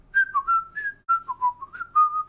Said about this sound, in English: take the part that I always whistle to myself whenever I'm like in a whistling mood